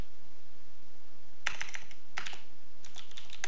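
Close, crisp bursts of typing on a computer keyboard while coding, with rapid key clicks in three short clusters separated by quiet pauses.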